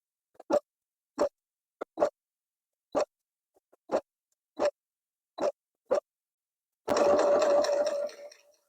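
Around the edge of a rainbow quillow, a sewing machine gives a row of separate short thumps at even intervals, followed by one close, sustained burst of stitching near the end.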